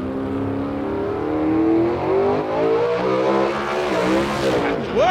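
Kaitlyn Quartuccio's drag race car at the U.S. Street Nationals roars loudly down the track, engine pitch climbing steadily, then a sharp screech near the end as the car goes sideways.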